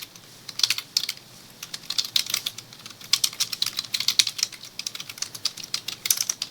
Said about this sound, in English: So we'll type download data py.